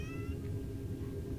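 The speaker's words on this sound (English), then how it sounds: "That's the cat you can hear there," A cat meows close by, a short cry or two over steady low rumbling background noise.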